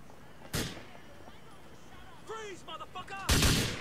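Two loud, sharp gunshots in the video game GTA IV, one early and one near the end, with a voice talking between them.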